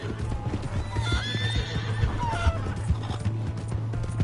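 A horse in a video game gallops with steady, rapid hoofbeats while neighing and whinnying over the top of the running rhythm.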